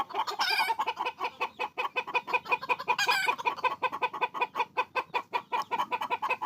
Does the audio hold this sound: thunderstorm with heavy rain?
no